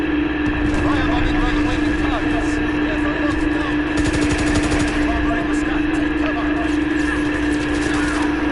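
Rapid sniper rifle and automatic gunfire from a PS4 shooter game, dense and continuous under a steady hum, with someone talking over the shots throughout.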